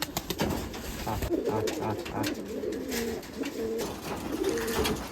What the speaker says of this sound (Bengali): আমি খাইতে দেবি কবুতরকে কবুতর খাচ্ছে